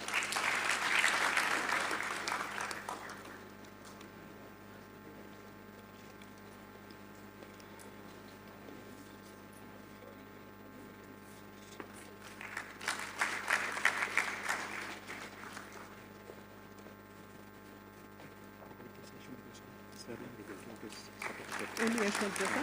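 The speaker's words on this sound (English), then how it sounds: "A big round of applause for Priya." An audience at a management institute convocation applauds a silver medal recipient in two brief bursts, one at the start and one midway, with quieter stretches and a low hum between them and a third burst beginning at the end.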